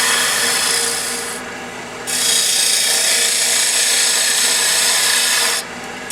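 A turning tool slices a wooden bottle stopper spinning on a lathe, giving a loud, steady, close scraping hiss that dips briefly, then continues with a short pause near the end.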